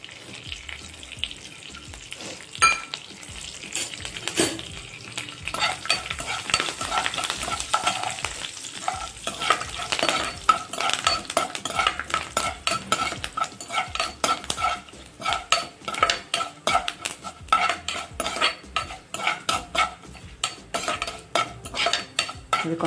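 Spices tempering in hot oil in a home kitchen for tomato drumstick curry, with a steady crackling sizzle and repeated scraping stirs of a metal spoon against the pan, close and without talk.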